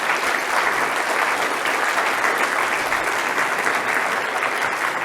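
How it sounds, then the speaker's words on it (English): Sustained applause from a large keynote audience at an executive event in Geneva, clapping for the company sales team as they stand; steady, dense and loud throughout, with no talk over it. "Round of applause."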